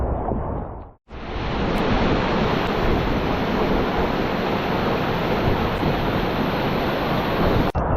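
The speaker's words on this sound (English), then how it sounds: "Like the density of white water is incredible." White water rapids roar through an arctic canyon river, a dense, steady, loud rush that starts abruptly after a brief quiet moment and continues close and unbroken.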